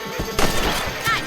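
Rifle shots aimed at rabbits in Red Dead Redemption, a few sharp cracks in quick succession over a brief outdoor game ambience.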